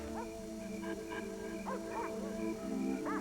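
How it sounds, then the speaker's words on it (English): Several dogs bark and yip in short bursts over a steady electronic hum, fairly distant and a little muffled. "You always hear his dogs first."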